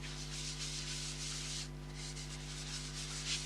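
Yorkshire Grit woodturner's abrasive rubbed by hand into wood on a stationary lathe, a steady soft close rubbing hiss over a low constant hum, with no speech.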